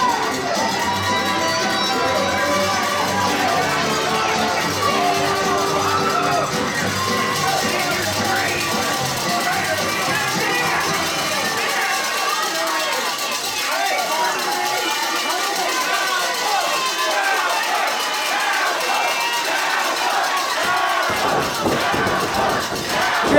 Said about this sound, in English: When Cowpoke Paul's coming out, this crowd, I can't hear a word you say